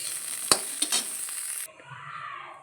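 Cauliflower fries in oil in a pan with a bright, hissing sizzle and a couple of quick utensil clinks, then the sizzle drops away into a softer, quieter bubbling.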